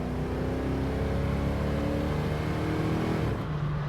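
A 1970 Dodge Challenger R/T with a 383 Magnum V8 accelerates hard, its engine note climbing in a loud, steady roar with rising pitch, close by and without any talk over it.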